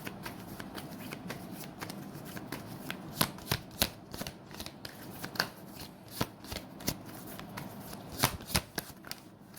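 Tarot cards being shuffled by hand, a quiet run of crisp irregular riffles and taps close by, with no talking.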